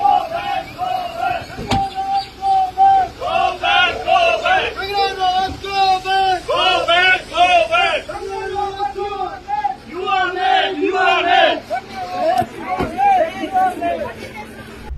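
A political crowd chants go back slogans, a loud, rhythmic mass of voices repeating in bursts with shouted calls leading and others answering.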